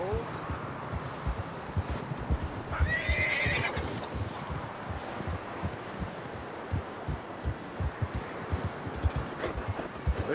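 A horse in the video game Red Dead Redemption 2 whinnies loudly once amid steady clip-clopping hooves, with rustling and voices talking over the scene throughout.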